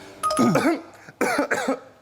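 Two hoarse, harsh coughs, close and loud, each a quick burst with a rough, strained edge, separated by a brief pause.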